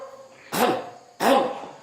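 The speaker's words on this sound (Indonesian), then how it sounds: "Dehem dengan perut." Two short, forceful throat clearings pushed from the belly come close and loud, about half a second apart, with a brief pause before each.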